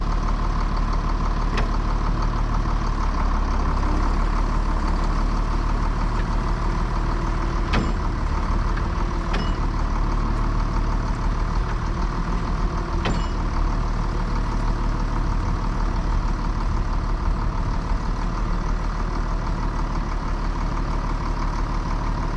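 A 1066 tractor engine drones steadily while towing a Case 660 combine, a continuous low, heavy rumble with a few faint clanks over it and no talking.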